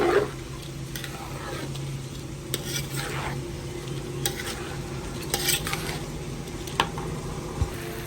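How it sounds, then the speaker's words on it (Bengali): Rice and lentils are stirred and fried with spices in a pan, a soft steady sizzle broken by repeated scraping strokes and occasional sharp clinks of the utensil against the metal. "এখন ভালো করে চাল ডাল এটা মশলাটার সাথে ভাজতে হবে"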